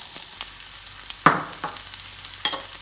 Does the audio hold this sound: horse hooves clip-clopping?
no